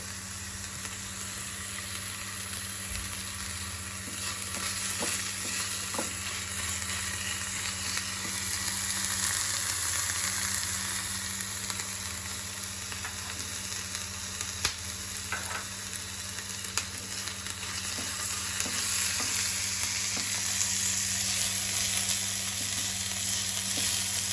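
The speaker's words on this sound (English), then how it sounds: "We will saute it in. Some spring onion." Spring onion sautéing in a pan while cooking honey chilli potato, giving a steady, close frying sizzle with light stirring scrapes throughout, no talk.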